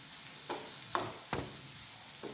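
Green chillies and chilli powder fry in hot oil for anchovy fish pickle, giving a faint, steady low sizzle broken by a few soft stirring scrapes.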